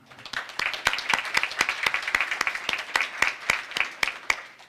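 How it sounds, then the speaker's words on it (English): A small group claps at a college student success center ribbon cutting, sparse, distinct, fairly rhythmic hand claps close by that build up and then trail away. "Please give them a round of applause."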